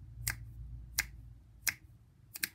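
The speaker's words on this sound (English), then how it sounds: "Can you snap your fingers?" Four sharp finger snaps at uneven intervals, the last two close together, ring out crisply in a quiet room during a children's body percussion lesson.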